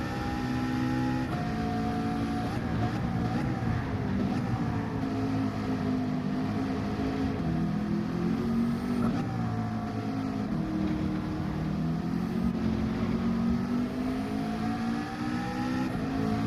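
A race car engine drones loudly and continuously in Gran Turismo 7 during a Manufacturers Cup exhibition lap at Grand Valley, its pitch rising and falling through gear changes and corners.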